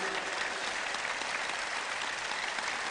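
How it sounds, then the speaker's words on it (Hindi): An audience at a talk applauds a researcher, an even, continuous wash of clapping heard at a moderate distance for three seconds, steady and without pauses. "तो फिर पता भी तो लगना चाहिए आपकी तालियों से।"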